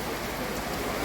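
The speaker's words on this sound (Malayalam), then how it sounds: "മൊത്തം മഴ കാരണം ഫുള്ള്" Heavy rain pours steadily at Attukal temple in Kerala during the Pongal festival preparations, a dense, even roar of drops on surfaces with no voices.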